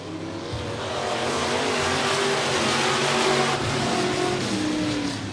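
Stock cars and sportmods at Stuart Raceway race past in a loud, dense engine roar that builds and holds steady, with several motors overlapping and rising in pitch before easing slightly at the end.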